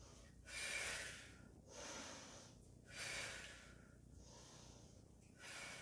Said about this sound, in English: I'm breathing out on the hardest part of the movement